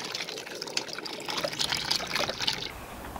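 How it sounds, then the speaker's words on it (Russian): Apple juice poured into a duck marinade, following orange juice, a steady close trickle and splash of liquid running for about two and a half seconds before stopping. "литр апельсинового вылили, теперь яблочный сок"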